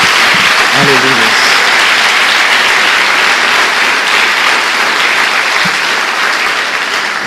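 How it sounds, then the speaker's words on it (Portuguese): Church congregation claps for Jesus during a worship service, a steady, dense wash of applause filling the whole stretch, with a brief low tonal sound near the start. "Dá uma salva de palmas a Jesus."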